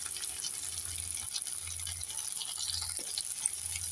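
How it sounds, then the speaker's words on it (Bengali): A spoon scrapes and rattles through brinjal and potato curry in a pan over a soft sizzle, short stirring strokes repeating close by with no talk. "একটু নেড়ে চেড়ে দিয়ে দেবো"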